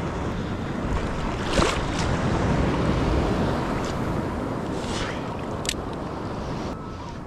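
Big ocean waves break and wash onto a South Australian beach, a steady loud roar of surf with wind buffeting the microphone and a few sharper crashes, no voices.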